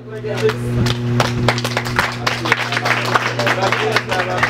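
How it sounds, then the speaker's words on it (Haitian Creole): Audience applause at a talent show finale, a steady patter of many hands clapping through the whole stretch, moderately loud, with a constant low hum beneath. "Applaudissons"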